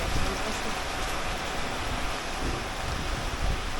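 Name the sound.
rain falling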